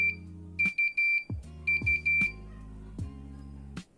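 A countdown timer's buzzer goes off when time runs out, sounding repeated bursts of sharp electronic beeps in an uneven rhythm, close and clear with no voices.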